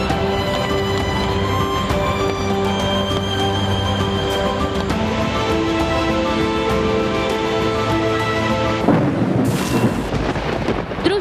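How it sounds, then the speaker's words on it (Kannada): Jog Falls waterfall roaring in monsoon rain, a dense, unbroken wash of rushing water that stays loud and steady throughout, with a tonal music-like layer running beneath it. "ಮಳೆಯಲ್ಲಿ ಮಿಂದ ಜಲಪಾತ ಹನಿಗಳ ತಾಳಕ್ಕೆ ತಕ್ಕಂತೆ ನಾಟ್ಯವಾಡುತ್ತಿದೆ."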